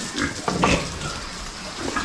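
Pig grunts sound close by, a few short snorting bursts in quick succession with no one talking.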